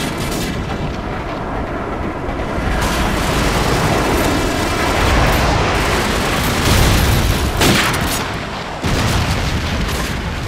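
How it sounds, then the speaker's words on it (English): Airstrike explosions in Call of Duty 4: Modern Warfare Reflex on the Wii boom and rumble one after another, loud and continuous, with heavy blasts rolling over a steady roar of battle throughout. "Airstrike on the way."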